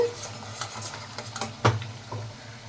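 Rice flour bonda snacks fry in a pan of hot oil with a soft sizzle, broken by stirring and a sharp metal clink of a utensil against the pan partway through; quiet overall.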